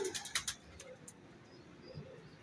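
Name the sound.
Kasuri pigeons cooing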